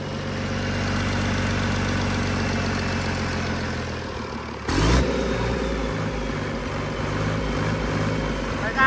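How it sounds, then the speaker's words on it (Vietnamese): A Cummins L375 engine on a test run idles with a heavy, steady diesel rumble, then the throttle is raised and the rumble jumps louder and deeper midway, staying close and continuous. "Cái ga từ nhỏ lên to xem nào."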